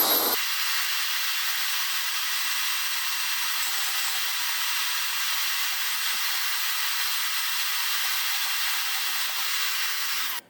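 A bandsaw that also works as a portable saw, cutting through a metal part with a steady, bright, high-pitched grinding whine that holds evenly for about ten seconds and then stops, loud and close with no talk.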